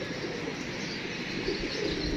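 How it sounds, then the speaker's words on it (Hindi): Female pigeon cooing softly amid steady outdoor background noise, low murmuring coos with faint chirps, no talking. "वो कबूतरी बैठी हुई है"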